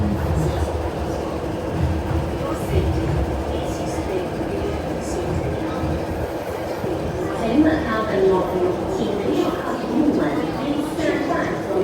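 An MTR C-train rumbles and clatters through Shek Kip Mei Station at close range, a steady rolling roar with rhythmic wheel clicks, while people talk over it.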